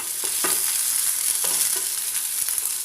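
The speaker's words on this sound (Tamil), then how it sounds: "அடுத்தது இந்த வெங்காயம், பொடியாக கட் பண்ணியிருக்கிற வெங்காயம் போட்டுக்கலாம்." Chopped onion frying in hot oil with curry leaves and red chilli, a steady loud sizzle broken by several short stirring scrapes, with no talking.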